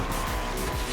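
Tires squealing as a car drifts in Asphalt Legends Unite, a Ford Shelby Super Snake muscle car, a brief loud sustained screech over engine roar and race noise.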